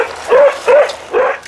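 A border collie barks three times in quick succession, sharp mid-pitched yips close by in a farmyard as a truck pulls in, with no other voices.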